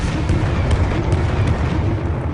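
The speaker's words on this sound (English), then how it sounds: "artillery strike" An artillery strike lands in the shooter Firefall, a loud, sustained rumble of blasts and booming impacts that runs steadily throughout, with no voices.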